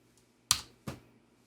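Two sharp, separate key presses on a computer keyboard while a search is typed, crisp and close in an otherwise quiet room.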